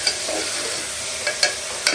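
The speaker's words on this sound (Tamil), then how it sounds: "கடுகு பொரிஞ்சிச்சு, இதுல வந்து பாத்தீங்கன்னா பூண்டு பச்சை மிளகாய் கருவேப்பிலை இதெல்லாத்தையும் சேர்த்துக்கலாம்" Mustard seeds, garlic, green chilli and curry leaves fry in oil for tomato chutney: a steady close sizzle with a few sharp spatters and stirring taps, no voices.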